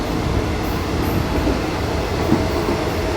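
Thai railway first-class sleeper train running between Lampang and Lamphun, a steady broadband rumble of the moving carriage with faint rhythmic wheel clatter, continuous and close throughout with no talking.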